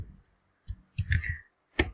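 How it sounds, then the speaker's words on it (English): Typing on a computer keyboard: a few irregular bursts of close, crisp key clicks separated by short pauses, with no voices. "in order to type, I have to use my keyboard. So I will type a sentence"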